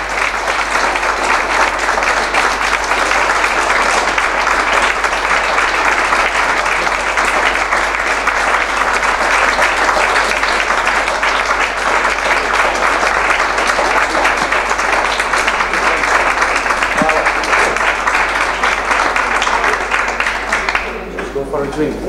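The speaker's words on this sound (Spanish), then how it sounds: "Veliki aplauz." Sustained, dense audience applause filling a theater after a talk, loud and steady throughout before tapering at the very end.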